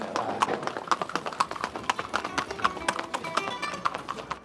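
Paso Fino horse hooves clip-clop in a quick, even, closely spaced rhythm, loud and near, with faint background sounds underneath.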